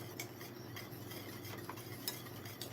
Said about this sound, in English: Keep stirring. Don't allow your porridge to get thick or lumpy.